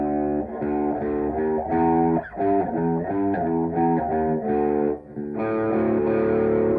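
A riff on electric guitar with no effects, a steady stream of plucked notes in a repeating pattern, close and fairly loud, alone without voices.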